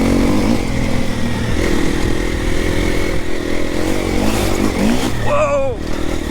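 A new four-stroke enduro motorcycle engine drones and revs steadily and loudly up close, with pitch rising and falling, while a person's voice exclaims over it.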